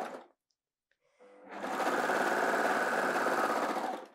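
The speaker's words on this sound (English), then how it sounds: "I just find it a lot quicker with a serger." A serger overlock sewing machine stitches pajama fabric, starting after a brief pause and running steadily at high speed as a loud, continuous, even whir with no talking.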